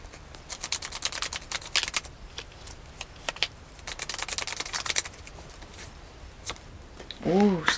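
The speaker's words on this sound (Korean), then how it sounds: "카드를 조금 더 뽑아볼게요." Tarot cards being shuffled and drawn by hand, heard as a close run of crisp, rapid papery clicks and flicks in uneven bursts, with a brief voiced sound near the end.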